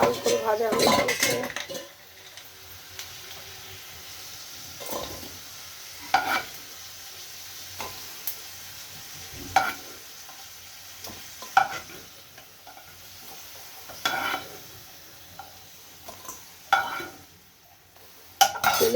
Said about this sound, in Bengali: শুকনো লঙ্কাটাও খুব বেশি ভাজা হয়ে গিয়েছে